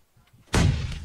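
A grenade or bomb explosion inside a house in the video game PUBG, one sudden heavy boom after faint rumbling, with a booming low tail that fades slowly.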